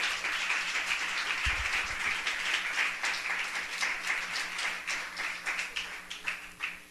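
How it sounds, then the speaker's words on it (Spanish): A church congregation applauds during a sermon, a dense, steady wash of many hands clapping together for several seconds, fairly loud and filling the room, with no talking over it. "Dale un aplauso al Señor, por favor."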